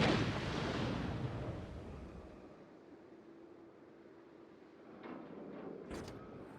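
A torpedo strike in World of Warships detonates with a loud, booming roar that rolls off into a long decaying rumble, followed by smaller impacts and a sharp crack near the end.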